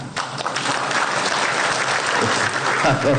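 An audience at a home minister's public speech breaks into steady, dense clapping that stays loud and close for the whole stretch.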